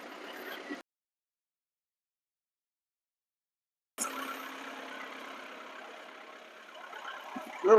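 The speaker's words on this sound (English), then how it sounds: "get the tractor fired up." An old tractor engine runs steadily at a sawmill site after starting up, a mid-pitched idling rumble that rises a little toward the end, preceded by a short burst and a silent gap.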